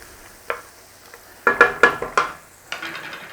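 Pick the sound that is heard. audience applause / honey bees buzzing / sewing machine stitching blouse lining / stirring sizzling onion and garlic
stirring sizzling onion and garlic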